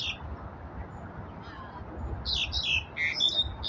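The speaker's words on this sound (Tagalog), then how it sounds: "Andun ang bird." Birds squawk in a run of sharp, harsh calls at a seaside park on the Aldrich Bay Promenade. The calls come in quick bursts over steady wind and outdoor rumble, close and fairly loud.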